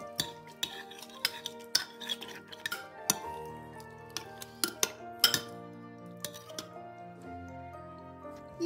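Metal spoon clinking and scraping against a bowl while mixing lamb liver with lemon juice and olive oil, a steady run of close, sharp taps and clinks with no talking.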